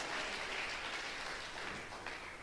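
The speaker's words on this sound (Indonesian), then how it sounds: "Tepuk tangan bagi Tuhan, haleluya" A church congregation claps for God during a sermon, a dense, steady wash of applause sustained throughout, slightly easing toward the end.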